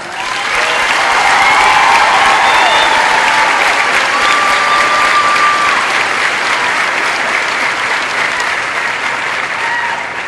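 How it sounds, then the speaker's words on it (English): A graduation ceremony crowd at an Air Force training squadron gives instructors a loud, sustained round of applause, a dense even wash of clapping for about ten seconds. "I would like to ask that you give a round of applause to these dedicated"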